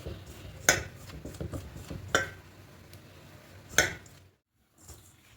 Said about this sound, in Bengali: এবার সবগুলো খুব ভালো করে মিশিয়ে নেবে হবে